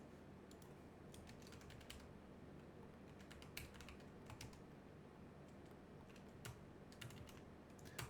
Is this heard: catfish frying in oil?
no